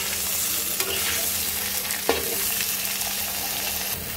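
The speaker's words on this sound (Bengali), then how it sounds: "এবার একটু হালকা আলু আর ফুলকপিটাকে ভেজে নেব।" New potatoes and cauliflower pieces frying lightly in oil in a pan, a steady close sizzle throughout with occasional soft clinks of a stirring spoon.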